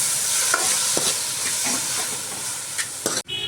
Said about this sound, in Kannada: 4 ಸಣ್ಣದಾಗಿ ಹೆಚ್ಚಿದ ಟೊಮೊಟೊ ಹಾಕ್ಕೊಳ್ತಾ ಇದ್ದೀನಿ ನಾನು. ಹಾಕ್ಕೊಂಡು ಇದು ಸಹ ಫ್ರೈ ಮಾಡ್ಕೊಳ್ಳಿ.